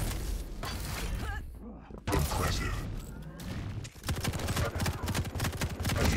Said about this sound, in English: Nice, I like the switch to the HMG.